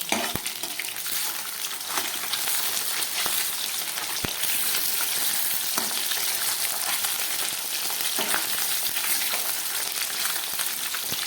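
Katla fish pieces fry in hot oil in a pan over low flame, a steady dense sizzle that fills the whole stretch with occasional faint crackles and no talking.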